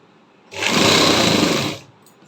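A sewing machine stitching the centre seam of a halter neck suit, one steady whirring run of just over a second that starts and stops abruptly, loud and close with nothing else heard.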